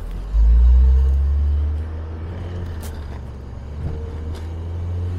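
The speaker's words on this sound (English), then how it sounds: "The sound, it's an inline four" A 1997 BMW Z3 1.9 convertible with its inline-four engine and manual gearbox, heard while driving: a loud, deep engine drone that swells briefly and then settles into a steady, lower hum.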